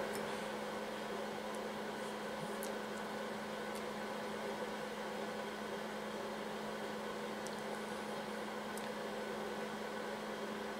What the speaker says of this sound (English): I'm turning my space heater on.